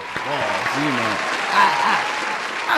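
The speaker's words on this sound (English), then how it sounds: "Round of applause" Audience clapping in a round of applause during a talk show, a steady crackling wash under a voice speaking over it.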